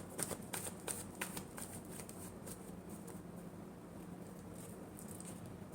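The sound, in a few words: shuffling tarot cards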